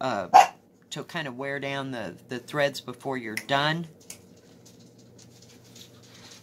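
A dog barks sharply in a room, a single close bark at the start, while someone talks over quiet indoor background.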